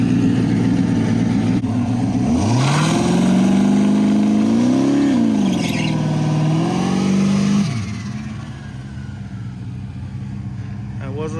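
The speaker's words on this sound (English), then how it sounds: "That wasn't a good enough burnout" A turbocharged Camaro roars through a burnout at a test-and-tune track day, its engine pitch climbing, wavering and falling over several seconds before easing off to a steadier idle rumble.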